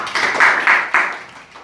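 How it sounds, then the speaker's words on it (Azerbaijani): Children in a classroom map quiz about world countries clap for a classmate, a short burst of a few loud, ragged pulses of applause that swells three times and then fades, with no talk over it. "Gəlin Yunisi bir alqışlayaq."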